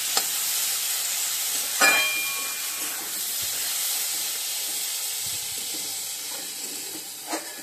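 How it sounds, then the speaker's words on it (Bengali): Soybean chunks sauté with spices in a pan, making a soft, continuous sizzle with a few sharp spatula knocks and scrapes while they are stirred. "সয়াবিনটা আমি দিয়ে দিয়েছি, এবার ভালো করে কষিয়ে নেব মশলার সাথে"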